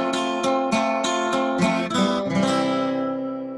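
Keyboard chords played in a short rhythmic sequence, repeated stabs shifting to a new chord that rings out and fades at the end.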